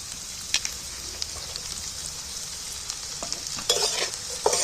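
Chopped onions fry in hot oil as they are stirred, a soft continuous sizzle with occasional scrapes and clicks of the spoon, close and fairly quiet, with no talking.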